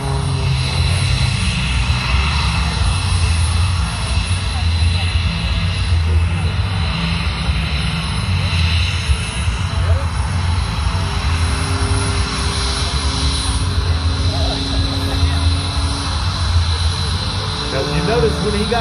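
An aerobatic airplane performs at an air show in Orlando, its engine a loud, continuous drone with a rising and falling whine as it maneuvers, while someone narrates over the noise.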